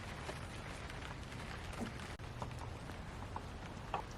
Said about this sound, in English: I just love the sound that the rain makes on the tarp, especially when it's a gentle rain like this.